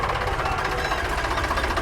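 A diesel tractor engine runs close by with a loud, steady knocking throb.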